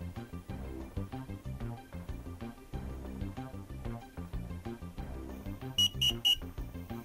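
A FLIR Vue Pro thermal camera gives three short, high electronic beeps in quick succession after a firmware install, sounding clearly over rhythmic background music.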